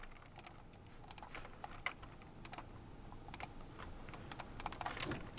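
Quiet, scattered clicks of typing on a computer keyboard, coming in short bursts with pauses over several seconds, faint against a soft background hiss.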